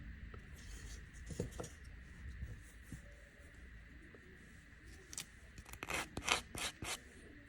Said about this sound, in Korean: 튀어나온 부분은 본드를 사포로 문질러 주시고